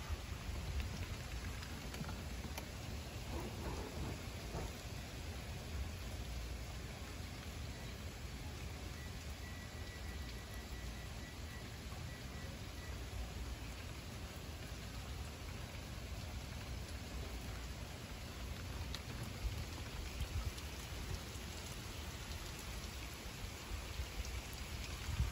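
Steady, heavy thunderstorm rain pours down on surfaces in Toms River for a long stretch, a dense hiss with low rumbling underneath; no voices.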